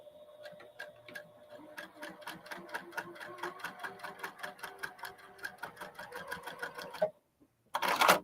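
A sewing machine stitches a reversible holiday handbag in a fast, rhythmic run of needle strokes, close and fairly quiet, then stops briefly before a short loud burst.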